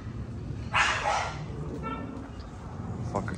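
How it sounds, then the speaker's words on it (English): A hungry dog barks and yips a few times nearby, mixed in with people talking over a steady background hum. "Fucker Turbo, keep barking, man."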